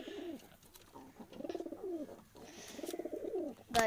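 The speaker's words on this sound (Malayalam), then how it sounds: "നമ്മളെ പെൺപ്രാവ് അപൂർവമായി കൊറുകുന്നുണ്ട്" Female pigeon cooing close by, two rhythmic bursts of soft throaty coos with a short pause between them, then a sharp click at the end.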